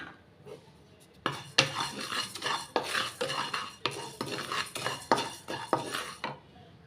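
Roasted moong dal is scraped and poured from a pan into another vessel, with repeated metal spoon scrapes and clanks against cookware, close and fairly quiet, with a brief faint sizzle and no talk.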